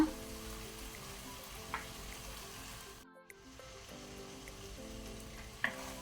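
Pav bhaji masala and vegetables fry in a pan with a soft, continuous sizzle, broken by a brief pause and a few faint clinks of stirring.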